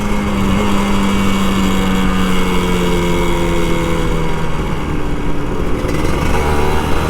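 A Kawasaki Ninja RR two-stroke motorcycle engine idles steadily while warming up, a continuous close buzzing drone with a wavering pitch that holds at an even loudness throughout.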